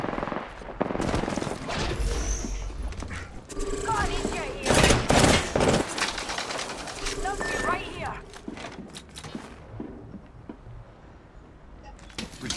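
Dense automatic gunfire in the Apex Legends battle royale shooter, loud bursts and sustained rattling volleys with in-game effects, mixed under a player's speech and fading toward the end.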